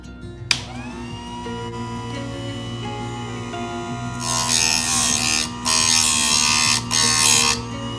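A Harbor Freight chain sharpener grinds a chainsaw chain at about 30 degrees: a motor hum spins up with a click, then bursts of harsh, loud grinding come and go as each tooth meets the wheel, close and without talk.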